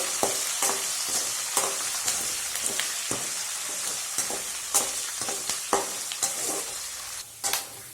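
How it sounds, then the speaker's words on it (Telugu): Peanuts fry in hot oil while being stirred, a steady bright sizzle broken by frequent crisp scraping and clattering stirs, close and fairly quiet, with no talking. "పల్లీలు కూడా బాగా నూనెలో ఏగిపోయినాయండి"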